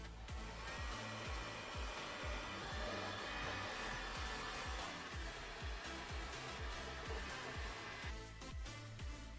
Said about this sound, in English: I'm just using the heat gun on the highest setting and working its way around